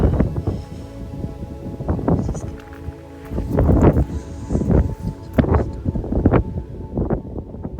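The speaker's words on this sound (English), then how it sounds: "It is super cold and windy today" Cold, strong wind buffets the microphone on a hike toward the Old Man of Storr rocky pinnacle on the Isle of Skye, gusting in uneven surges with low rumbling bursts throughout.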